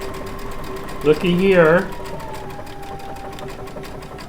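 Baby Lock Altair sewing machine with a circular sewing attachment stitching in a short rapid whirring burst of under a second, close by over steady background hum; a person talks briefly.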